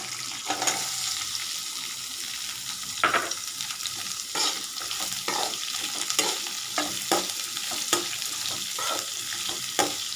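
Onions sauté with green chili, ginger and garlic in a pan, crackling with a constant bright sizzle. Regular scraping strokes of stirring repeat close by throughout, with no talking.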